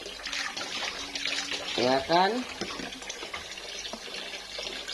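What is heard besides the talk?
pouring water to rinse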